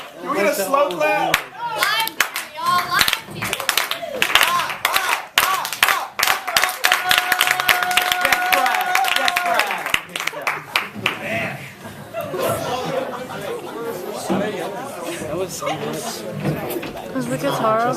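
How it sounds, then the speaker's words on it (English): An audience at a live song performance claps and chuckles amid lively chatter, the clapping dense and irregular rather than a clear slow rhythm, with voices talking over it throughout. "Can we get a slow clap?"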